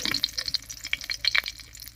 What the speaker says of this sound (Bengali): এই তেলের মধ্যেই ফোড়ন দেব আর ফোড়ন দেব গোটা জিরা তেজপাতা আর একটা শুকনো লঙ্কা